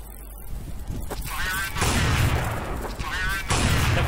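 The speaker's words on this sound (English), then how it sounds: "we're gonna use minigun" Minigun fire in Counter-Strike 1.6: a loud, dense rattle of rapid shots that keeps going through the moment, with booming impacts and some garbled voices mixed in.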